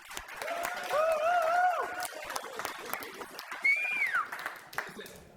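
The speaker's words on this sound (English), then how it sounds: "could all please give Tony a big round of applause" Audience applause for Tony, the CEO and co-founder of usekanban.com, at a Meteor Night meetup in London, a steady patter of clapping from a modest crowd with a few whistles and a voice heard over it.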